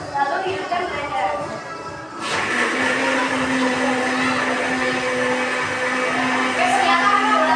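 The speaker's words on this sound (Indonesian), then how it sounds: "Lalu hidupkan blender." An electric kitchen blender switches on and whirs steadily with a constant high-pitched motor drone, loud and continuous after a brief quieter start, during juice preparation.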